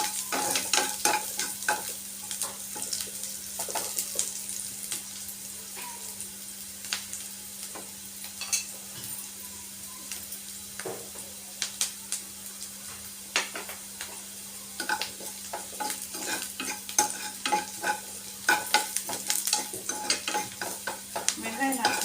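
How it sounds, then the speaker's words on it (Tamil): Onions fry in a pan and are stirred toward golden brown, with a steady soft sizzle, frequent clinks and scrapes of a spoon against metal, and a low hum underneath. "வெங்காயம் நல்லா பொன்னிறமாக சிவந்து வரணும்"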